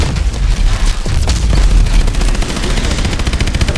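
Heavy gunfire aimed at an engine in the video game Call of Duty Advanced Warfare, loud, rapid bursts of shots with booming impacts that carry on without pause.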